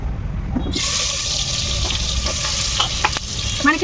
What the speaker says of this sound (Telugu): ముందు ఉల్లిపాయలే వేపుకోవాలి